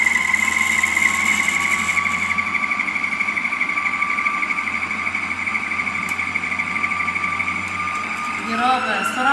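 Dough kneading mixer running steadily at its third speed, a close, constant high motor whine with mechanical hum, a voice heard briefly over it.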